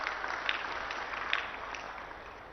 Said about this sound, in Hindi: एक जोरदार ताली बजा दीजिए सब लोग इस बात के लिए